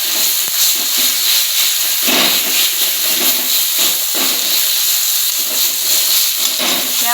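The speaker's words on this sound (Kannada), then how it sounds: "ಸುಮ್ಮ ಒಂದು ಸ್ವಲ್ಪ ಫ್ರೈ ಆಗತ್ತ." Spices sizzling in hot oil in a pan while vada pav filling is being cooked, a loud, steady frying hiss that carries on throughout with small crackles and no talking.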